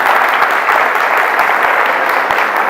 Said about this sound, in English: I didn't hear the applause.